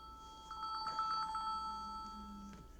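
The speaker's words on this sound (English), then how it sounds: "excuse that, my phone was ringing there." A mobile phone rings with a short, faint electronic melody of quick repeating tones, then a sustained note, in a quiet room.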